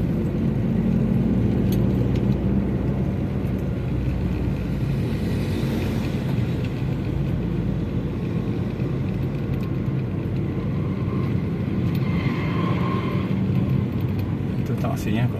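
Slow Jakarta traffic jam with cars and a taxi crawling along, a steady low rumble of engines throughout with people talking over it.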